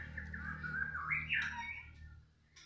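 A young male white-rumped shama chirping in bright, rising and falling whistled phrases, fairly close, over a low background hum, tapering off near the end.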